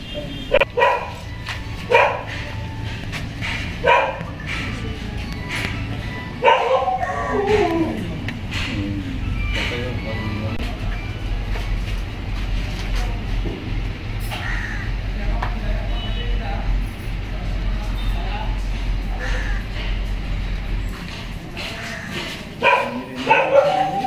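A dog tied up inside a house room barks several times in short bursts over a steady low hum, with some voices and household noise around it.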